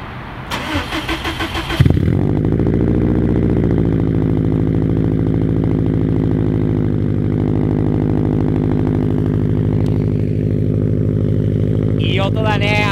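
A Subaru car engine cranks and catches on a cold morning, then settles into a loud, deep, steady idle close to the microphone, with a brief voice at the start and more talking toward the end.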